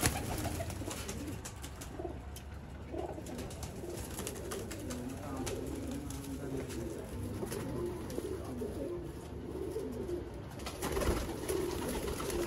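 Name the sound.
pigeons cooing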